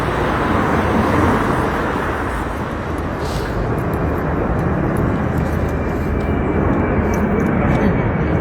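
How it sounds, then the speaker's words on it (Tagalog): Near Roissy in France, an airplane roars overhead with a loud, continuous broadband rumble, heard alongside road traffic throughout. "Yan yung mga dumadaan na aeroplano"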